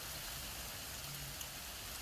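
Steady rain falls outside a repair shop in wild mixed weather, an even, close hiss with no breaks and no voices.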